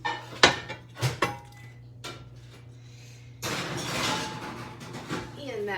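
A home cook's pan for Sunday dinner goes into the oven: a few clanks and knocks of metal on the oven rack, then a longer scraping slide, with a voice heard over part of it.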